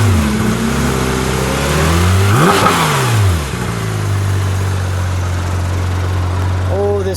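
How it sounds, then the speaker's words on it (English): A green 2016 Porsche 911 GT3 RS engine revs up in a loud, close sweep, with air rushing into the intake, then settles back to a steady idle drone; voices are audible over it. "When I rev it up, you can hear the air suck into the induction system."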